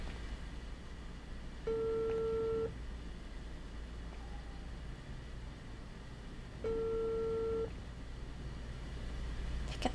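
An unanswered telephone rings in the detective game Unheard. Two steady electronic ring tones sound about five seconds apart against a quiet hum, with no talking.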